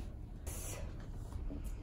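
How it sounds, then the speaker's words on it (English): Two short hissing bursts of Oribe super fine hairspray are sprayed onto hair, quiet and close, with a gap between them. "super fine hairspray. I'm just gonna spray and I'm gonna hold."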